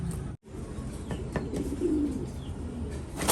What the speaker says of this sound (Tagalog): may biglang bumabang kalapati dito